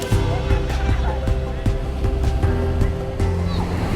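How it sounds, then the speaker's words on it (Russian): Ocean waves surge and slosh into a rocky tide pool on the coast of Kauai, Hawaii, a loud continuous churning wash with repeated splashing bursts close by. "волна приходит, вот сюда залетает, опа, и вон туда прямо в бассейн"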